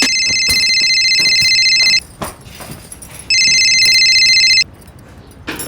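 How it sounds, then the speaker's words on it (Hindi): A telephone rings loudly in two long electronic trilling bursts separated by a pause, close and clear with no talking. "आई प्लीज फोन घे ना।"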